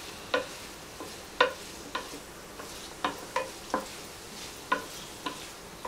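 A spoon scrapes and clinks through sauce-coated fried cauliflower Manchurian in a pan, about a dozen short irregular strokes, quiet and close, with a faint sizzle beneath and no talking.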